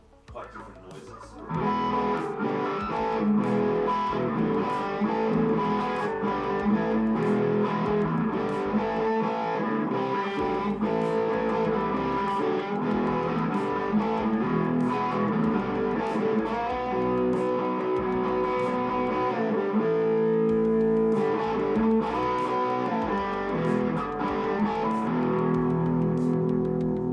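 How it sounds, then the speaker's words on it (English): An electric guitar plays through a distortion and effects setup with a sweep on the mid tones around 100 hertz, giving a loud, continuous, dense tone with plucked attacks and shifting sustained notes. "When I do that sweep on the mid tones, you get some really quite different noises."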